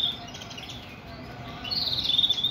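A white fancy canary sings close by, thin high chirps and trills that start soft and swell louder toward the end, heard alone without talk.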